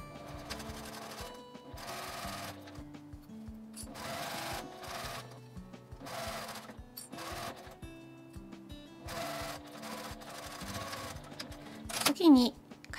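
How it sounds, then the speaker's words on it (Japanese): A sewing machine stitches a seam on a doll's kimono in several bursts of rapid mechanical whirring separated by short pauses, close and clear, with a brief scrape of fabric handling near the end. "この折ったところから2センチのところを縫います。"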